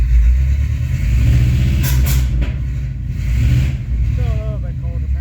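A 1985 Chevrolet K20 pickup engine, still a little cold, revs up loudly, its roar rising and falling with a steady rumbling idle underneath; a voice talks briefly over it.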